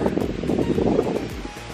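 Strong gusty wind buffets the microphone on top of a rock outcrop, a constant low roaring rush with no talking heard.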